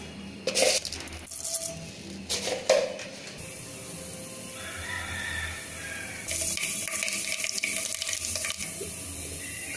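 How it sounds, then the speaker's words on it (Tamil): Mustard and fenugreek seeds splutter in hot sesame oil in a pan, with sharp crackling pops bursting in clusters near the start and again later, over a steady sizzling hiss. "கடுகு வெந்தயம் நல்லா பொரிஞ்சிச்சு."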